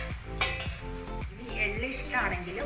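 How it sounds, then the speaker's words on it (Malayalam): Horse gram and cumin stirred in a pan, with repeated spoon scrapes and light clinks against the metal over a soft sizzle, close and moderately loud. "ജീരകം ചേർത്ത് കൊടുക്കാം. എന്നിട്ട് നന്നായിട്ട് മിക്സ് ചെയ്ത് കൊടുക്കാം."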